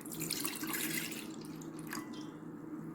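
Milk is poured into a ginger salabat drink being made for a cough. The pour is a brief, quiet, splashy trickle of liquid, close by, with no talking.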